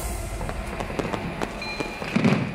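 New Year's fireworks burst over Las Vegas as a scattering of sharp, distant pops and cracks at irregular intervals over a continuous low background rumble, with a denser cluster of bangs near the end.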